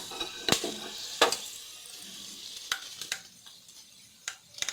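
Whole spices fry in oil for chana biryani: cloves, cinnamon pieces, cardamom, mace, star anise, marathi moggu and a bay leaf. Several brisk stirring clatters sound over a light, crackling sizzle.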